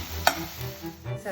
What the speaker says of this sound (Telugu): కట్ చేసుకున్న ఆనియన్ బాగా కలుపుకోవాలి.